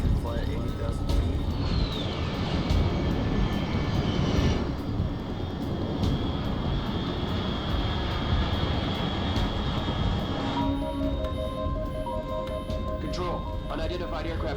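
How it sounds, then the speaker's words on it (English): A fast, unidentified aircraft in Metal Gear Solid Delta drones with a sustained, loud engine roar that holds under and between spoken voices. "Control, unidentified aircraft detected."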